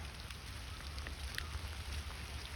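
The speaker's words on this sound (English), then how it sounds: "it's starting to rain, y'all. Like, it's starting to pour." Pouring rain falling outdoors makes a faint, steady hiss with scattered soft drops, continuous and without talk.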